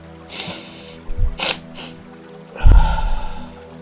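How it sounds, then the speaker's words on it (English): Several loud breathy inhales and exhales close to the microphone, ending in a long, heavy release of breath. "We're going to start by taking a few deep breaths"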